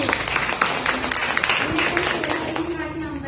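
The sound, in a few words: loud applause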